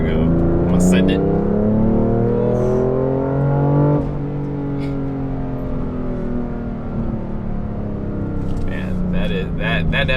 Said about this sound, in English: I'm going to switch over to Sport Plus. Car tightens up, car gets a little louder.